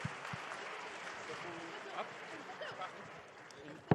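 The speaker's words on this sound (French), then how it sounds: "Je crois qu'on peut à nouveau l'applaudir" Guests at a gala dinner with an awards ceremony give a soft, steady round of applause that stays fairly faint and distant, with a few sharper claps and murmured voices near the end.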